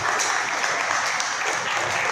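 An audience claps steadily through a felicitation ceremony at a history society gathering, a dense continuous wash of hands with no voices over it.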